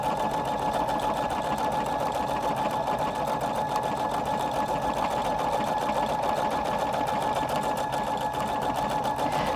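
A Husqvarna Viking Designer Brilliance 80 sewing machine stitches decorative stitches in a steady, rapid, close mechanical whir that runs unbroken from start to finish.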